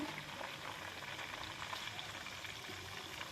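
Chicken wings fry in a pan and get turned over, making a faint, continuous bubbling sizzle that holds steady throughout.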